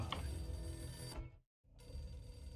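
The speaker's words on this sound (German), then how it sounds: "In der Eingangshalle läutete ein altes Telefon." An old telephone rings in a lobby in the Max Payne video game, a continuous metallic bell trill that cuts off abruptly, drops to silence, then resumes.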